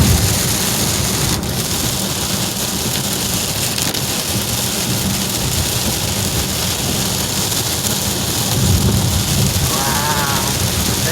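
Torrential rain pounds a car during a drive, heard from inside as a loud, steady roar of water on the roof and windshield, with a rumbling low wash throughout.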